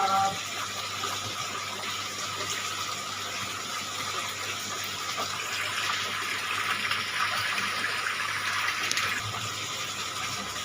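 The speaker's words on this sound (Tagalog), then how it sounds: "naglalagay na ako ng tubig mga kalablab" Water pouring into an aquarium tank during cleaning, a steady continuous gushing splash heard close up and lasting throughout.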